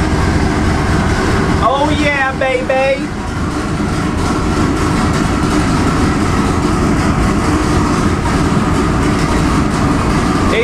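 A 2200 HP 632 big-block Chevy engine with twin turbos runs on a dyno, a loud, dense, sustained roar that holds steady throughout. A brief whistle or squeal sounds near the start.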